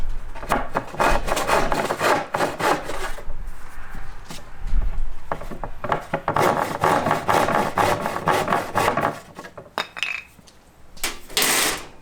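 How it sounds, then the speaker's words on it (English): A handsaw cuts through wood while a butcher block table top is finished, the rapid back-and-forth rasping strokes running fairly loud and close, with brief pauses between runs. "Finish it out with a handsaw, of course."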